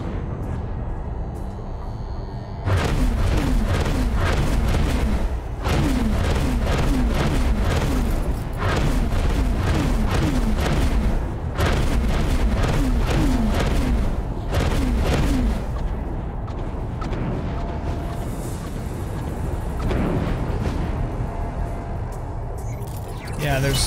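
Explosions in the space simulator X4 Foundations, loud booming blasts in repeated bursts over a steady engine drone, several close detonations spread across the stretch with brief lulls between them.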